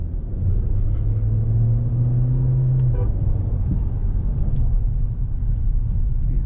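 Mahindra Scorpio N petrol SUV driving on road, a steady low engine and road rumble heard from inside the cabin, continuous and fairly loud, with a brief rising hum midway and no talking.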